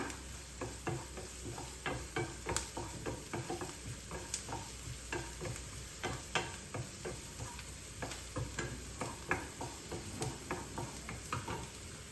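Onions sautéing in a pan for a white pumpkin curry, with a steady sizzle and repeated stirring scrapes and clicks of a spoon throughout, close and moderately loud with no talking.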